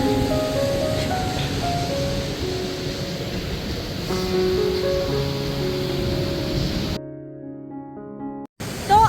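Steady, broad rush of a waterfall at Badrinath Dham fills the scene, a constant roar with some tonal music-like lines over it before it cuts to near silence.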